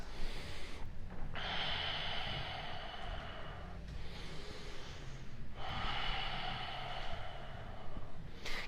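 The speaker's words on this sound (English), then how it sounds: "Keep that loud Ujjayi breathing through every pose" Loud ujjayi breaths drawn through a constricted throat during a power yoga class, sounding as long hissing, ocean-like rushes with brief pauses between them, steady and close, with no talking.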